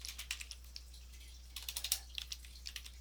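Light, quick typing on a computer keyboard while entering a spreadsheet formula, soft irregular clicks in short clusters over a low steady hum.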